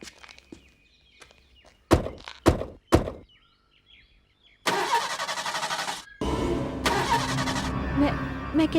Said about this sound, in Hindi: मैं जानती हूँ ये गाड़ी स्टार्ट नहीं होगी।